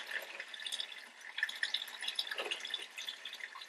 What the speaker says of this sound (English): So as you can see now, it's a constant flow of water.